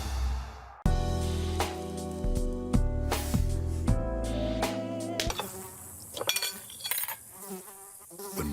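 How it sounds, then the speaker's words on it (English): Insects whine and buzz in a pest control advert about mosquitoes, starting after a brief quiet lead-in over a loud, layered music bed, with sharper buzzing bursts toward the end. "When mosquitoes show up,"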